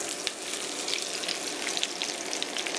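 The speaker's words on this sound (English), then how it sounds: "I'm going to take my onion that I have sliced into thin little strips and cook it in this bacon grease" Thinly sliced onion strips fry in hot bacon grease, giving a steady, close sizzle with faint crackles throughout and no talking.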